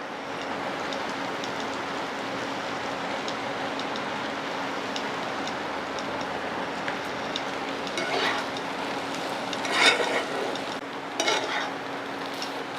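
Boiled potatoes sizzle steadily in a pan as they fry, with occasional scraping stirs rising over the constant hiss and no talking.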